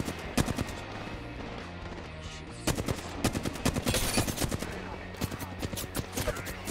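Bursts of rapid gunfire in the video game Apex Legends crackle in quick succession, with short pauses between volleys, loud and close against a low background hum.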